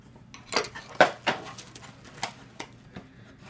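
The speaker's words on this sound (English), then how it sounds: "I'm trying to get the lid out." A lid is worked off a Flick the Wick candle jar, giving a few sharp clinks and clatters of glass and lid spaced across a few seconds, close and fairly quiet, with no voices.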